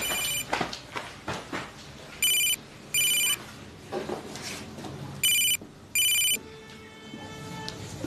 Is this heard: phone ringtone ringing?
yes